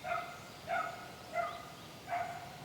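A single dog barks four times in a steady, evenly spaced series, each bark clear but at moderate distance, with no talk over it.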